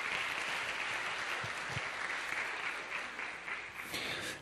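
A congregation at a Korean church service claps warmly to welcome the pastor to the pulpit, producing a steady, full round of applause that continues throughout and eases slightly at the end.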